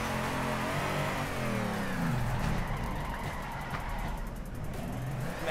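A drift car engine in the Torque Drift video game revs hard after a clutch kick, wailing and climbing in pitch as the car slides, loud and close with no talking.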